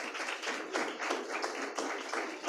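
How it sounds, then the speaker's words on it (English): Audience clapping for a workshop group at a climate justice summer school in Nairobi, a steady dense patter of many hands in a room, with no voices over it. "Let's give them a clap."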